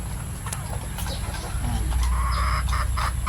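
Hens clucking in short, scattered calls over a steady low background hum, with a few sharper bird notes near the end.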